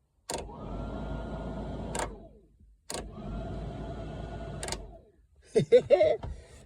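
The heater fan in a 1964 car switches on twice, each time a steady whirring hum lasting about two seconds before cutting off, close up, followed by someone speaking.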